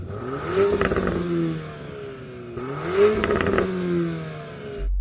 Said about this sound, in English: can you rev up your Porsche, please?